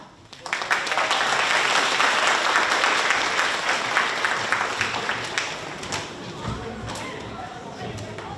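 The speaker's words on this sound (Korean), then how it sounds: "박수 치면서 마지막 촬영하겠습니다" City hall employees gathered at the front of the stage for a group photo break into loud, steady applause that builds quickly and holds for several seconds before easing, with some speech underneath.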